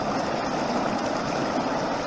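Choppy water with whitecaps along Horse Thief Park Trail gives a steady, full rushing wash that never lets up, close and fairly loud, with no voices over it.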